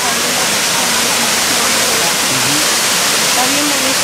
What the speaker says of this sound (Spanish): mira la cascada ahí